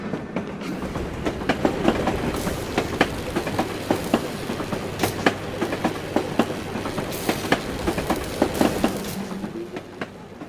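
A tram rolls along rails through a city in Assassin's Creed Chronicles: Russia, wheels ticking over rail joints in a steady clickety-clack rhythm under a low rumble, moderately loud and continuous with no voices.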